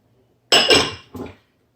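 Black beans and chickpeas tipped into a big bowl for a bean salad, with two quick close clinking clatters of beans and utensil against the bowl in an otherwise quiet kitchen.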